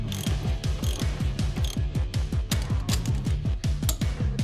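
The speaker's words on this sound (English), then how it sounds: "finish tightening and torquing the single upper mounting nut" A ratchet wrench tightens the single upper strut mounting nut on a 2005 Mercedes-Benz C230 Kompressor with a Monroe OESpectrum strut assembly. Its rapid, even clicking continues without a break, close and clear, with no voices.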